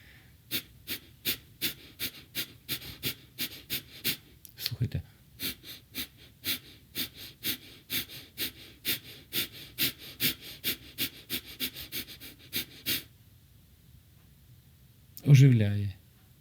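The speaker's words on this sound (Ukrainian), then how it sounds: "Короткий видих і тут же вдих." Rapid, forceful belly breaths in a breathing exercise: a steady train of about two dozen sharp exhales and quick inhales at close range, pausing near five seconds and ending around thirteen, followed by a brief louder burst.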